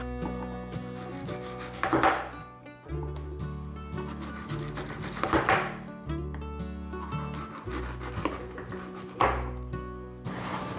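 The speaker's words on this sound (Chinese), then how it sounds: "把芋头切片。" A knife slices a fresh taro root into thin pieces on a cutting board. Three or four firm cuts with scraping strokes recur every few seconds, close and clear over soft background music.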